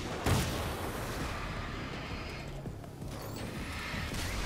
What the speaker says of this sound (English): Was that a darkness grenade?